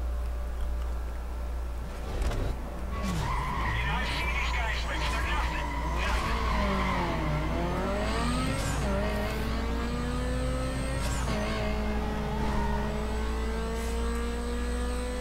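Racing cars skid and rev through a street race in the video game Need for Speed Carbon, with engine pitch sweeping up and down and tire squeals mixed into steady loud game audio, while someone talks over the top.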